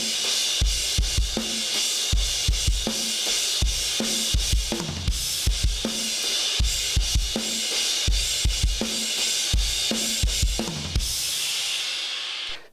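Drum kit plays an eight-bar rock intro groove from a song, steady kick and snare hits under a constant trashy crash wash, loud and close, solo drums with no talking.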